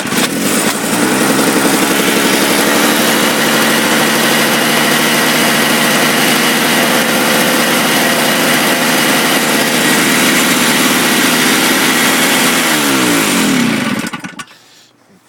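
A primed Toro 20 snowthrower engine runs loud and steady at a fast, buzzing idle for about fourteen seconds, then quickly dies away to silence.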